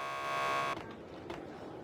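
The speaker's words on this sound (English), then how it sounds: "Just press the buzzer by the door." A door buzzer at a lockup in the video game Max Payne 2 gives a loud, steady electronic buzz for about three quarters of a second, then cuts off, leaving quiet background and a faint brief click.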